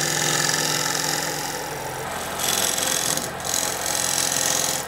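A lathe drones steadily as a gouge pushes through a spinning wooden bowl, a loud, close, continuous cutting hiss with slight swells where the tool bites deeper, no voices.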